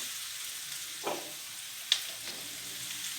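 Freshly chopped tomatoes and green chili are added to a quietly sizzling pan of chicken curry, with a couple of soft bumps as they drop in, and no one speaks.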